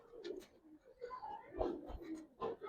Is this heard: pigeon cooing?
yes